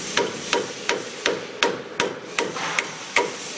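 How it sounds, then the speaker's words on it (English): Wheel studs on an EZGO RXV golf cart hub are tapped out with a hammer, about nine sharp metallic blows at an even, quick rhythm, close and clear with no talking. "tap the lugs out of the hub"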